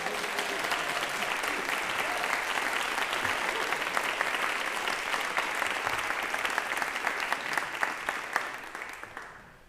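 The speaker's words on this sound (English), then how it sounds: "Let's give them another round of applause." Audience applause for community band soloists at a church concert, sustained dense clapping that carries on for about nine seconds, then thins and tapers off at the end.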